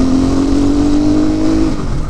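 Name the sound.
CrossX300x motorbike engine revving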